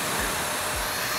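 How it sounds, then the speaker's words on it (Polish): Hoover Ultra Vortex mattress vacuum cleaner running in suction-only mode with its brushes stopped, a steady, loud whirring drone filling the short stretch with no talk. "Pracuje już tylko odkurzacz."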